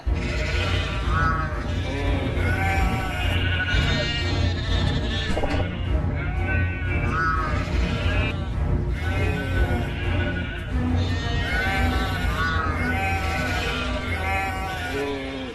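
A cartoon goat in an animated Hindi fairy tale about a magic goat bleats loud and close in repeated wavering cries, one after another, with a full, continuous background beneath them.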